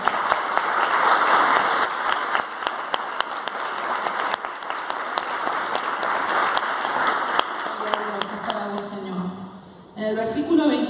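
A church congregation applauding during a Spanish-language service, sustained clapping from many hands at close range that slowly thins and fades. A voice and music take over near the end.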